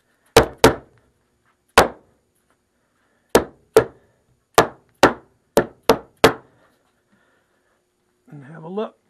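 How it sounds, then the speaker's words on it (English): Ten sharp soft-hammer blows knocking glued wood pieces down, spaced irregularly, some in quick pairs, followed by a short muffled scrape at the end. "take a softer hammer. All right, just bang those guys down."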